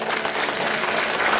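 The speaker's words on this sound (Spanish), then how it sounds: "Un aplauso, Diego." A congregation applauds at a Christmas church service, a dense, steady roar of many hands clapping, close and even throughout, with no talk over it.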